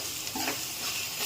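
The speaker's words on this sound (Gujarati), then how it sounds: "એ કાજુ પછી ફ્રાય કરી નાખો" Cashews fry in hot oil in a pan, giving a soft, steady hiss and sizzle with a brief stir, faint and close throughout the short moment.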